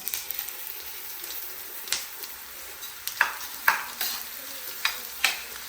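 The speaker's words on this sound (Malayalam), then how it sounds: "എണ്ണ ചൂടായി ആ നമുക്ക് മല്ലി ഇട്ട് കൊടുക്കാം" Coriander seeds dropped into hot oil for a coriander chutney give a close, steady sizzle broken by sharp crackling pops every second or so, with no talking.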